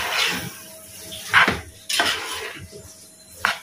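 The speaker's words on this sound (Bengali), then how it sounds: "এখন গাজরটা দিয়ে এই এক দুইবার নাড়াচাড়া করে ভাতগুলো দিয়ে দিব" Carrots and rice fried in a pan are stirred with a metal utensil. Intermittent scrapes and clinks sound against a low sizzle, close and moderately loud.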